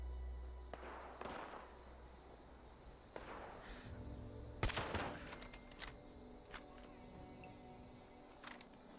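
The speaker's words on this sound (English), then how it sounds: "What are you shooting at, robot?" Robot gunfire in Fallout 76, a series of scattered cracking shots and a sharp louder burst over a rumbling, foggy outdoor ambience.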